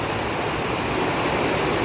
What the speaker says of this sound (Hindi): बहुत ज़्यादा तेज़ वाली बारिश शुरू हो गई है